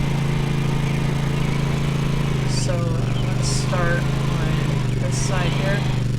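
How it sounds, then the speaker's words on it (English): Mulching lawn mower engine in the Lawn Mowing Simulator video game, a continuous steady drone running throughout while someone talks over it. "This lawnmower was a bit of a big investment, but A, it can mulch"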